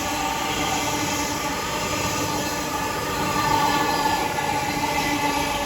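Elizabeth line Class 345 unit 345 047 on the 09:31 Paddington to Shenfield service rolls through Stratford station, a steady, loud, close rumble of wheels and motors with no voices.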